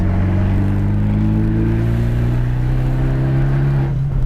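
An Abarth 124 Spider with an aftermarket exhaust drones loudly and steadily at close range while driving, its engine note holding a rich humming tone that rises slightly near the end, with no talking.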